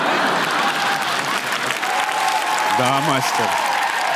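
Audience applause at a Russian comedy roast show, loud and sustained throughout, with a man's short spoken reply cutting in near the end.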